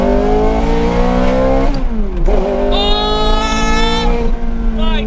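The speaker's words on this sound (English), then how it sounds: "the engine sounds amazing" A Ferrari F430 Scuderia with a six-speed manual revs hard on a public road, its engine note climbing loudly, dipping briefly at a shift, then surging again into a high, sharp wail.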